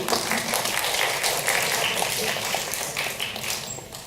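A seminar audience applauds after a correct answer, a steady wash of clapping running a few seconds at moderate level without speech over it.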